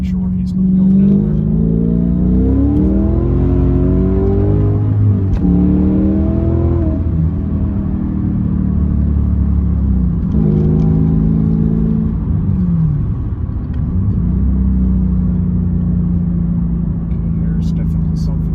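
A manual Porsche Panamera S with an upgraded V8 exhaust does a rolling burnout on a slippery winter road, producing a loud, deep engine drone that repeatedly swells and falls as the revs climb and drop.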